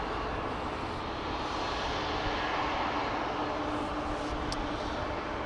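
Aircraft engines roaring steadily at Amsterdam Schiphol Airport, a broad continuous rumble and whine at moderate distance with no speech.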